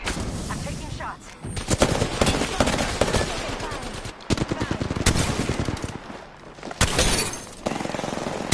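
Rapid automatic gunfire in an Apex Legends match played as Crypto, dense loud bursts with cracks and impacts that pause briefly and then resume, close and continuous with game effects mixed in.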